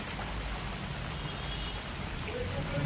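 Steady rain on a rainy day in Kolkata gives an even, dense hiss that fills the whole stretch without a break, fairly loud and close.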